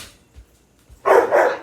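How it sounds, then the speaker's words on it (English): A dog at home gives a loud, close double bark after a brief quiet stretch. "These dogs drive me crazy."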